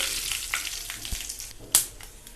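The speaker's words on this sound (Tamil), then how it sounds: "சாம்பாருக்கு நம்ம தாளிக்க போகிறோம்." Mustard seeds, urad dal and dried chillies crackle and pop in hot oil with a steady sizzle, a few sharper snaps standing out, close by with no talking.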